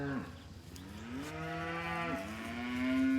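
Cattle in a herd with a bull, one cow in estrus, low drawn-out moos rising and falling in pitch, two or three calls in close succession, near and loud.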